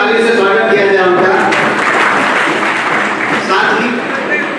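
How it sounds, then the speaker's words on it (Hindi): Audience applause welcoming a guest at a district bar association golden jubilee ceremony, a dense steady clapping that fills the whole stretch, loud and close, with voices mixed in beneath it. "ताली से स्वागत किया जाए उनका।"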